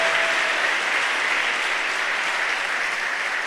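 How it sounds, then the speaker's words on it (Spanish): Church congregation applauding during a Spanish-language service, a dense, steady wash of clapping at an even level throughout. "Vamos a darle un aplauso al Señor."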